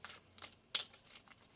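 Tarot cards being shuffled by hand in a quiet room: a few soft riffling bursts, one sharper snap near the middle, each brief and close with pauses between.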